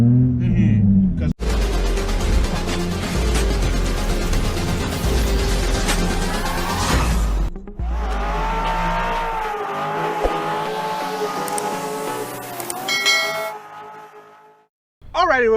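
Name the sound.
2008 Honda Accord exhaust revving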